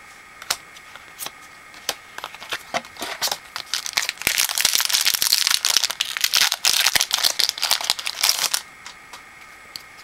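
A Born of the Gods card booster pack being torn open by hand, with scattered clicks and crinkles first, then a sustained burst of close foil crinkling and tearing before it settles back to light handling taps.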